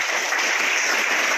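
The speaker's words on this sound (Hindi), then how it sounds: "पहले तो जोरदार तालियां हो जाए" Loud, dense applause from a crowd at a school donation event in Uleda, a continuous wash of clapping with no pauses.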